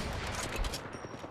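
Rapid gunfire crackles in a video game firefight, a dense continuous spray of shots heard fairly quietly in the mix.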